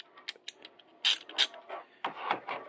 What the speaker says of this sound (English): So you got the ratcheting screwdriver.